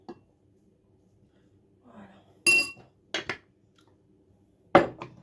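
Spoon clinking against a bowl while oat bran and wheat bran are scooped in, a few short sharp knocks spaced apart in a quiet kitchen.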